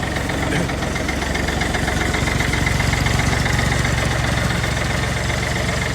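A tractor engine idles steadily up close, a continuous even rumble that holds without change for the whole stretch, with no talking.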